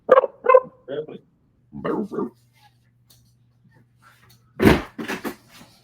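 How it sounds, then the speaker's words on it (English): A dog barks in short bursts, two or three sharp barks at the start, a few more around two seconds, then a louder cluster near the end, close by, with quiet gaps between. "Dog's gonna go psycho here in a second."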